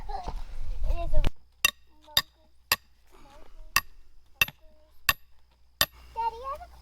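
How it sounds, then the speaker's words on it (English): A really heavy hammer strikes an extremely heavy real pipe during a grey water drain field repair, sharp metallic clanks landing about seven times at uneven intervals, with voices of an adult and someone talking between the blows. "That's a really heavy hammer."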